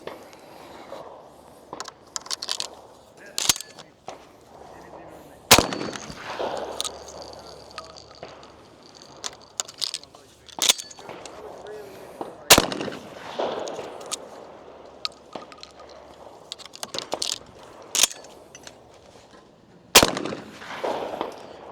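A Fabarm XLR5 Velocity shotgun fitted with a shell catcher fires sharp, loud blasts spaced several seconds apart, with handling clicks and rustling between the shots.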